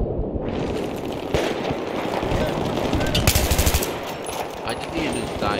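Sustained automatic gunfire in a Battlefield 3 multiplayer match, rapid bursts and rattling shots layered over constant battlefield noise, with a voice speaking faintly in places.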